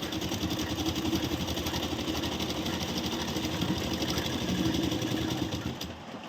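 A sewing machine stitches a princess-cut blouse with a deep V neck in a continuous, loud, close rhythmic whir that lasts the whole stretch without a pause.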